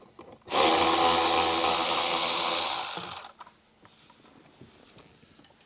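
A power drill whirs loudly for close to three seconds, backing screws out of the radio bracket inside a Jeep Wrangler, then winds down into faint clicks and handling noises.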